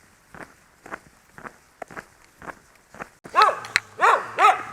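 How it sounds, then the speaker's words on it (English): Two territorial dogs on a road, with a run of steady footsteps on pavement followed by several loud, close barks from the dogs. "Those two dogs came storming out on the road at me."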